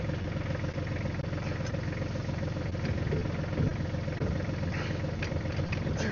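A tractor engine runs steadily while mowing during the first mow of the year, a continuous close-up rumbling drone with a faint rattling vibration throughout.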